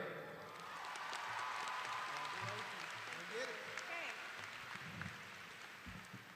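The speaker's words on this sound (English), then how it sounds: "let's give a big round of applause to one of your greatest advocates, your principal, Tara Baker." Audience applause at a high school graduation ceremony, a sustained wash of many hands clapping throughout, with voices and cheers mixed in.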